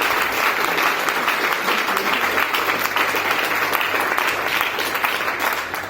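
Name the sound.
audience applause at an award ceremony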